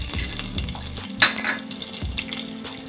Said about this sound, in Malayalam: ആദ്യം നമുക്കിതിനെ അങ്ങ് ഫ്രൈ ചെയ്തെടുക്കാം.